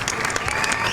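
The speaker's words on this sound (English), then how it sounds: "Applause everybody for that." Applause from a small audience at a horror-themed show, a steady wash of overlapping claps filling the short moment at moderate loudness with no voices on top.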